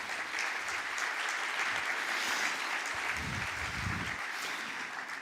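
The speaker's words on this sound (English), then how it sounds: "So, Sumi, thank you very much, and a big applause." An audience claps steadily in a hall in Berlin, a dense even wash of applause that holds for the whole stretch at a constant loud level with no speech over it.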